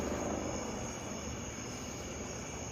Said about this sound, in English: Obviously there's a helicopter flying around my neighborhood.